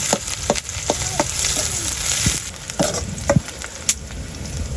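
Onion and garlic fry together in a pan for a village-style duck and lentil curry, giving a soft continuous sizzle broken by sharp scraping and knocking strokes of a spoon being stirred.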